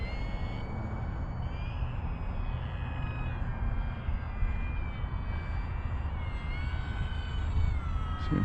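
An FMS Maule 1500mm STOL RC model airplane flying practice approaches, giving a steady electric whine with high tonal harmonics that stays fairly loud and even throughout, with no talking.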